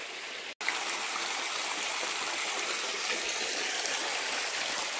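A small stream runs through dense forest as a steady, close rush and trickle of water, broken only by a brief dropout near the start, with no talking.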